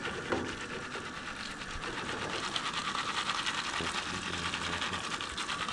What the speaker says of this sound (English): Yeah, you can hear the butter going.